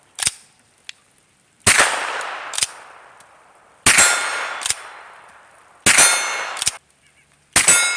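Four loud, sharp gunshots from a gun firing supersonic ammunition ring out alone, each with a long echoing tail and a fainter metallic click or clang following, spaced a couple of seconds apart.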